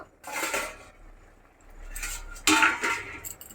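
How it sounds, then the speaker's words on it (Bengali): A metal lid lifted off a pan of tomatoes cooking for a sweet-sour tomato pickle, a few close clanks and scrapes of metal against metal in short separate bursts, with no voices. "এবার ঢাকাটা খুলে দেখে নেব।"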